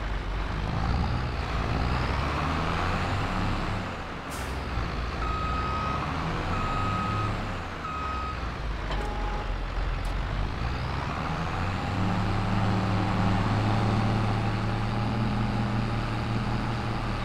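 A farm truck reverses to park a trailer in a field, its backup alarm beeping in a steady repeated pattern over a continuous low diesel engine rumble.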